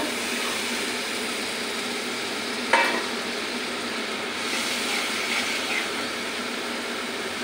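Masala for a chicken curry fried in a pan, a continuous even sizzle throughout with one brief sharp clink of the spoon partway through.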